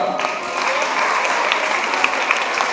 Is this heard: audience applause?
yes